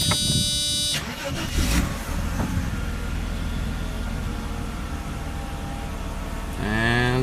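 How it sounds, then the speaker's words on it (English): A Mercedes E320 engine starts up after a new throttle body install, a short cranking followed by a steady idle hum, with the engine rising again near the end. "So we're gonna start the car now for the first time."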